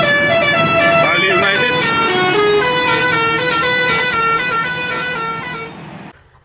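A Bali United bus horn plays a long, loud, steady melodic tune with many layered tones, holding for about six seconds before cutting off.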